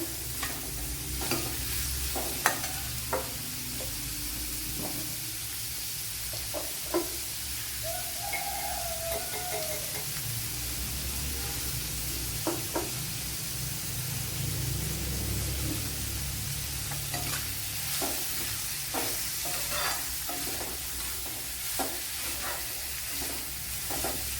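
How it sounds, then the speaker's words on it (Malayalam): Onions sauté in a pan for a quail egg curry, sizzling steadily and loudly up close while a utensil scrapes and stirs through them at irregular intervals, with no talking. "അപ്പോൾ ഇവിടെ സവാള നല്ലപോലെ വഴണ്ട് വന്നിട്ടുണ്ട്"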